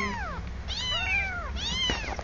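Kittens meow close by, a few drawn-out, rising-and-falling cries in quick succession with short pauses between them.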